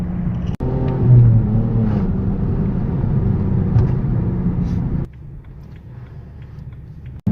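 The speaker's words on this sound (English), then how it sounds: "While we're driving over to Carson's" A car drives along a road, giving a steady close engine rumble and road noise from inside the cabin. The drone drops to a quieter hum after a few seconds, with a couple of sharp knocks, and no talking.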